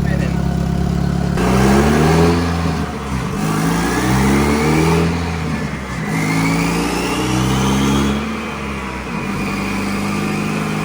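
A twin-turbo D16 engine in a Honda Civic runs close and loud, revving in repeated rising pulses with a high turbo whirl sweeping above the engine note and voices faintly underneath.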